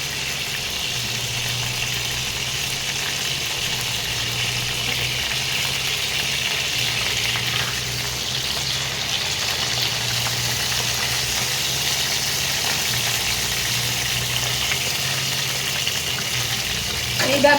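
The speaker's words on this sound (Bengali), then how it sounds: "এইরকমভাবে মাছটা ভাজতে হবে।" Fish fries in hot oil, giving a steady, even sizzling hiss throughout, with a faint low hum underneath and no talking.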